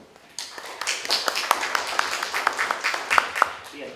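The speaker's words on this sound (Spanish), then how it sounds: "Un aplauso para él, por favor." Applause for a speaker introduced at a university law talk, a smaller group clapping with distinct individual claps audible, starting abruptly and continuing steadily at moderate loudness.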